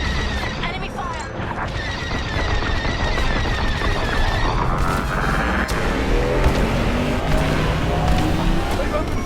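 Enemy starfighter laser fire in a Star Wars: Squadrons space battle, dense bursts of rapid shots and crashing impacts layered over a constant loud roar of engines and combat noise, with voices speaking over the din.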